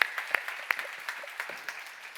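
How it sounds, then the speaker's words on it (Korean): Scattered, light clapping from a small audience at a church Bible seminar, a few sharp isolated claps at an uneven pace that fade into soft room noise. "오, 박수 쳐줘요."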